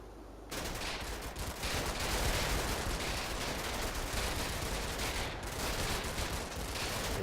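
Intense gunfire in the Combat Mission: Battle for Normandy video game, a dense, unbroken barrage of rifle and machine-gun fire that starts abruptly and stays loud throughout, with no voices.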